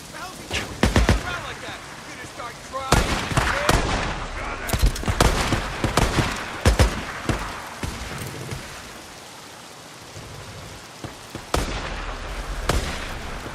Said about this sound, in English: he's firing this massive fucking hand cannon with no suppressor